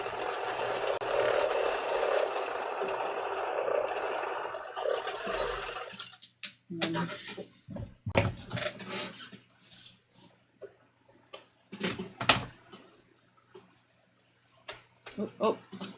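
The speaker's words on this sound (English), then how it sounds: "let me just wind this bobbin" A sewing machine winds a bobbin for T-shirt quilt work, making a steady close whir for about six seconds. It then stops and is followed by scattered light clicks and handling noises.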